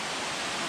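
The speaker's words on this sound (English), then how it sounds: "This waterfall is going to go right up here, and we're going to cross it" A waterfall on a mountain hiking route near ice caves gives off a steady, dense, hissing rush that stays close and continuous with no other sounds.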